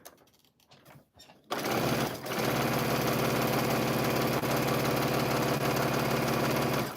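A sewing machine stitching a Christmas quilted table runner starts after a quiet moment, then runs in a loud, steady, fast mechanical whir close by until the end.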